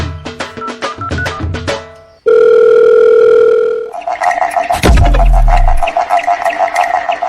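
Telephone call tones ring out loud and close: a rapid series of beeping key tones, then a long steady dial tone, then more choppy tones with a low thump, no voices.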